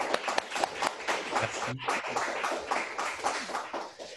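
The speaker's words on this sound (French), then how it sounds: "On peut applaudir" Applause from an audience at a masterclass, irregular near claps in a continuous patter with a brief pause midway, and a single spoken word of thanks heard over it.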